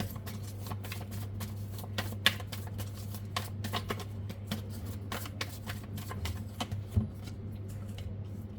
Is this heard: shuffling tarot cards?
yes